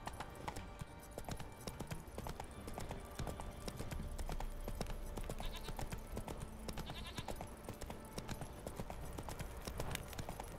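The horse Roach trots in The Witcher 3: steady, fairly loud clip-clop hoofbeats in an even rhythm over ambient game sound, with no talk.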